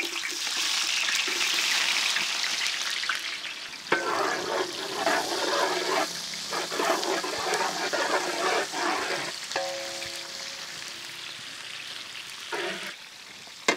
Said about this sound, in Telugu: ప్యూర్ ఘీ, నూనె, నెయ్యి వేడైన వెంటనే దీంట్లోనే మనం సన్నగా తరిగిన ఉల్లిపాయ ముక్కలు యాడ్ చేద్దాం